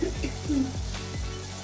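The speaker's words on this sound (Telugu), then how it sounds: "ఆయిల్ లైట్గా తేలి కొంచెం దగ్గరగా అయ్యి కొంచెం థిక్గా అయ్యే వరకు నేను దీన్ని కలుపుకుంటున్నాను" Tamarind juice mixture stirred in hot oil in a pan, sizzling steadily up close with a few soft spoon scrapes, no voices.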